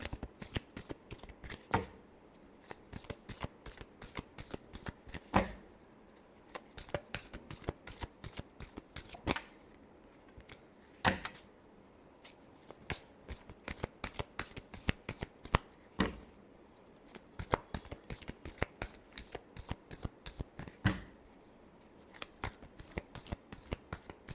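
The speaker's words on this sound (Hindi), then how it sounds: "Last shuffle." A deck of cards being shuffled by hand during a tarot-style reading, heard as a long run of crisp, rapid riffling flutters and soft slaps repeating in bursts, close and fairly quiet, with no talking.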